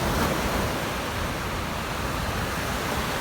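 Ocean surf rolling onto the beach at Okaloosa Island, Fort Walton Beach, Florida, on the Gulf of Mexico early in the morning: a steady, loud broadband wash of waves with no pauses and no voices.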